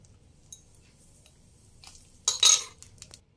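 A spoon scraping and clinking in a bowl as hot oil and ghee are mixed into flour for chatur kochuri, faint light ticks building to a louder burst of scraping near the end.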